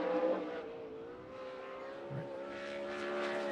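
A 360 sprint car races past at Grays Harbor, its engine holding a steady, loud high-pitched drone with clear harmonics and slight pitch drift throughout, no voices over it.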